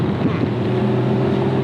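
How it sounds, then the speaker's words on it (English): A 2016 Porsche Boxster Spyder's naturally aspirated engine rumbles from the rear with a low, steady droning exhaust note and wind buffeting, brief and fairly loud. "there's something to be said about the naturally aspirated sound that comes out of the back end of this car."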